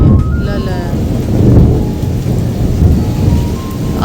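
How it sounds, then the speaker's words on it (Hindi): Heavy thunder from rain clouds rumbles loud and close, rolling continuously over steady downpour and gusty microphone buffeting. "देखो बादल बहुत तेज गरज रही है"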